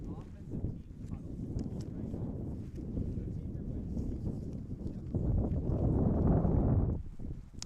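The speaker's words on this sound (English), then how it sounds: "Sorry if you're hearing the wind of this broadcast, just something we can't avoid." Low, rumbling gusts of wind buffet the microphone at an outdoor six-a-side football game broadcast, swelling louder toward the end, with muffled commentary mixed underneath.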